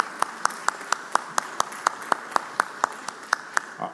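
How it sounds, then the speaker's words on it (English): Sparse, sharp hand claps in a steady rhythm, like a small scattered round of applause in the Mississippi Senate chamber. "Let's give him a round of applause."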